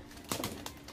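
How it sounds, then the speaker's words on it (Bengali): Pigeons at a home loft give a few brief, soft coos close by, separated by short pauses in a quiet setting. "বন্ধুদের এবার পায়রা উড়াবো"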